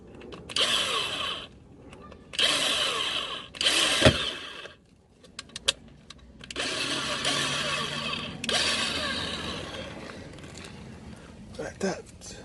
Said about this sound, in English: I'm going to drill the holes on the other one as well